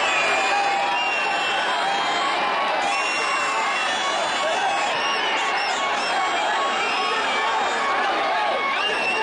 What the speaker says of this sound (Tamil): ஆங்கில புத்தாண்டை வரவேற்று அவர்கள் உற்சாக ஆரவாரம் செய்தனர்.